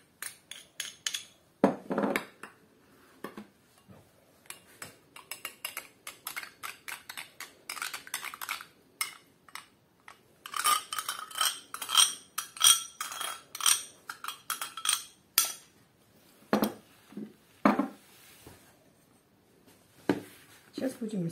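A spoon stirs baking soda into sour cream in a bowl while making dough for Tatar gubadia, with irregular close clinks and scrapes against the bowl and pauses between bursts, under occasional speech.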